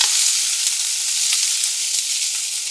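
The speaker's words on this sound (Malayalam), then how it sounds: "ചൂടായി കഴിഞ്ഞാൽ അതിലേക്ക് നല്ല ഫൈനായിട്ട് അരിഞ്ഞ് വെച്ച ഉള്ളി ഇട്ട് കൊടുക്കാം" Finely chopped onions sizzle in hot ghee, a steady, close crackling hiss of frying that holds evenly throughout with no talk.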